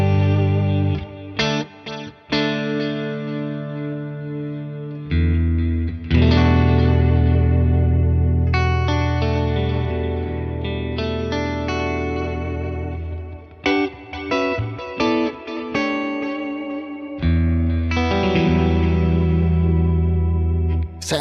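Electric guitar played through a Tone King Imperial preamp pedal with its built-in reverb engaged, sustained chords and picked notes ringing out with a spacious wash and occasional pauses between phrases.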